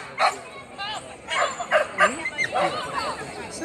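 A dog barks in short yips during an agility jumping run, several sharp barks mixed with a handler's excited calls and nearby voices.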